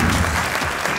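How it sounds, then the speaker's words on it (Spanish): A brief burst of audience applause for a comedy presenter on a television show, with continuous dense clapping heard throughout. "vaya mierda de aplauso que me han dado"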